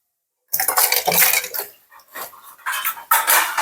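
Plates being handled in a kitchen, with clattering clinks and scrapes of dishware starting after a brief silence, loud and close, in irregular bursts.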